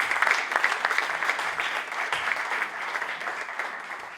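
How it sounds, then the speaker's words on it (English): An audience gives a sustained round of applause at an architecture and interior design debate event in Pune, dense continuous clapping that slowly tapers toward the end, heard alone without speech. "Please give a huge round of applause."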